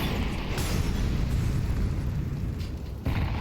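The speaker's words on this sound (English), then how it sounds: "Early incendiary's out again." An incendiary grenade goes off in Counter-Strike, giving a loud, steady roaring burst of fire that fills the whole stretch with dense rumbling noise and a brief dip near the end.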